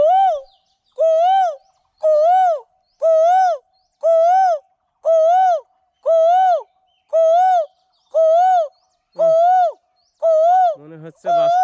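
A voice imitates a cuckoo (koel), repeating a clear, rising-falling whistled call about a dozen times in an even rhythm, loud and close, ending in a short, garbled flourish.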